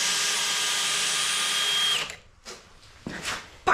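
A power drill drives pocket screws into wood during a camper build in a Chevy Express van. One steady high whine runs for about two seconds and then stops, followed by a few short clicks and handling noises.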